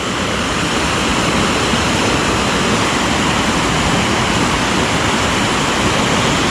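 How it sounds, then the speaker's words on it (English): Wensley waterfall in full flow, deep and powerful water crashing in a loud, constant broadband roar, close and unbroken with no voices. "There's quite a lot of water in there, quite a bit of power and force in it."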